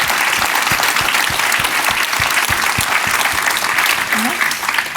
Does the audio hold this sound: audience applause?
yes